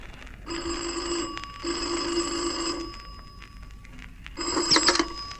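An old-fashioned telephone bell rings in an apartment at night, three loud bursts of shrill ringing with short pauses between them, close and alone with no voices.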